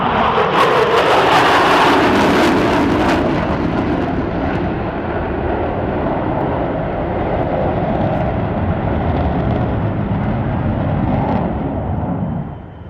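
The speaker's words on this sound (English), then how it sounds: "This is what it looks like at the carrier as the airplanes are coming back into land" Military jet airplanes coming back in to land at the NAS Oceana air show: a loud, continuous roaring jet engine that holds steady for the whole stretch, then fades slightly at the end.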